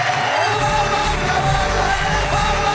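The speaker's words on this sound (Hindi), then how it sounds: "जोरदार ताली।" A studio audience at the Hindi poetry show Wah Wah Kya Baat Hai cheers and claps loudly, a dense crowd roar with whoops and shouts running continuously.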